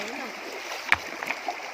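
Water in a stream runs with a continuous soft rushing, a small splash or two breaking through, while someone talks over it.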